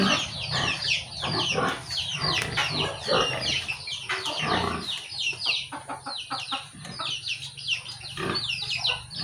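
A pregnant sow near farrowing on a farm grunts and squeals in a busy, close chorus of repeated short calls, with farm fowl clucking among them and no talk.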